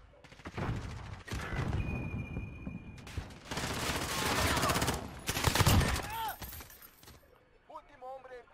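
Gunfire from Call of Duty Modern Warfare during a Search and Destroy match comes in several loud bursts and rattling volleys, mixed with game sounds and voices talking over and between the shots.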